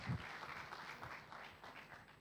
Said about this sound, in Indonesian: Tepuk tangan bagi nama Tuhan kita.